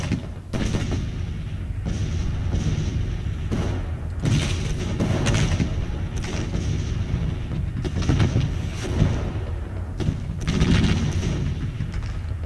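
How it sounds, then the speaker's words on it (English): Civil War artillery firing canister in the strategy game GTCW during the Third Battle of Culpeper, a dense series of heavy booms and thuds, repeated and overlapping at irregular intervals over a constant battle din. "canister fire going into this clump"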